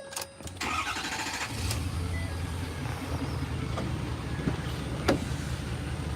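A truck engine cranks and catches, then settles into a steady low idle that runs throughout, with a couple of brief clicks or clunks near the end.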